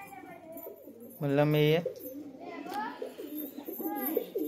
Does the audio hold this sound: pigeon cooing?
yes